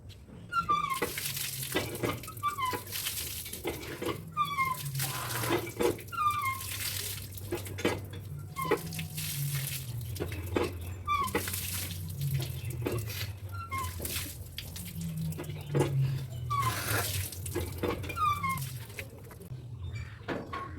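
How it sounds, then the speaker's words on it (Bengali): Tap water runs steadily into a bathroom basin while someone washes their face and bathes, a constant splashing hiss broken by intermittent clatters and shifts in the flow, heard close with no talking. "মুখটা ধুয়ে স্নানটা সেরে নিই"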